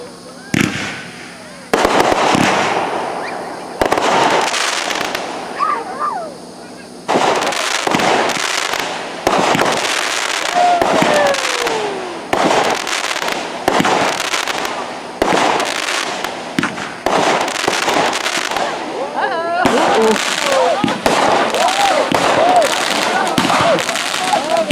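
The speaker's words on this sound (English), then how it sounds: "waiting for the fireworks." Fireworks burst repeatedly at an outdoor summer celebration near a church, loud cracks and booms in irregular clusters with crackling, while people cheer and talk throughout.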